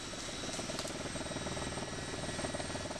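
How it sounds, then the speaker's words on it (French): Constant rumbling thrum of a military helicopter flying over the Amazon forest, steady and fairly loud with a throbbing rotor texture and no talking. "Au même moment, au-dessus de la forêt, un hélicoptère de l'armée survole la région."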